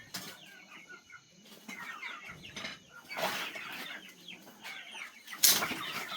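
Farm chickens being carried home to raise cluck in soft, scattered bursts, broken by a few quick flurries of flapping wings, fairly close and moderately quiet with small pauses between.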